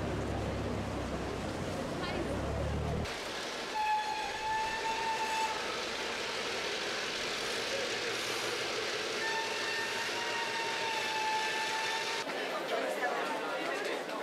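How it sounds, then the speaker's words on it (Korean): A train rolls steadily through the middle of the village of Aguas Calientes near Machu Picchu at close range, with a continuous rumbling clatter and high metallic squeals, a voice faintly audible early on. "이 마을 한가운데로 기차가 지나간다"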